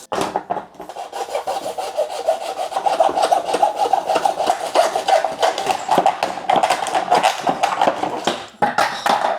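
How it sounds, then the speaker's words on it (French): Repeated hacksaw strokes rasp back and forth at close range in a steady rhythm as a hacksaw cuts in a miter box, with a brief pause near the end before cutting resumes. "j'ai récupéré une boîte à couper, une vraie scie à métaux"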